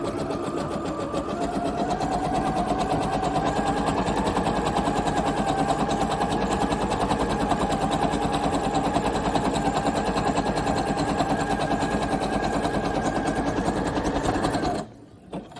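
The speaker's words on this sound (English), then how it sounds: "we will follow this line all the way down to secure the front of the pad" A sewing machine stitches a seam down a pad with a loud, fast, continuous mechanical whir that runs unbroken for about fifteen seconds before stopping abruptly.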